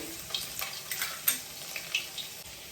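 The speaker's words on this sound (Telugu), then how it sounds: "మన ఆయిల్ అనేది హీట్ అయిందండి. ఇందులో మనం కొంచెం గార్లిక్, కొంచెం జింజర్ అండి, దీన్ని చిన్న పీసెస్ చేసుకొని దీంట్లో యాడ్ చేసేసుకుందాము" Chopped garlic and ginger frying in hot oil in a pan for chilli chicken, a soft steady sizzle with light crackles and faint stirring scrapes, no voices.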